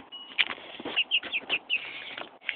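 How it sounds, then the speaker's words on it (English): Two roosters cluck and squawk in quick, irregular bursts close by, with some rustling and flapping between calls. "These are my two roosters, Boyd and Rat."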